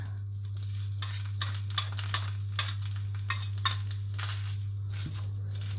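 Red curry paste is stir-fried in oil in a hot pan: a soft sizzle under a low steady hum, with regular scraping taps of a spatula against the pan.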